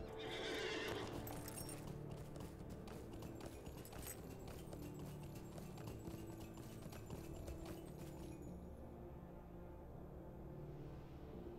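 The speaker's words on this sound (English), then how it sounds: "Let's get on our horse." Rhythmic hoofbeats of a galloping horse in Lord of the Rings Online, with a whinny at the start, steady and fairly quiet over a faint background.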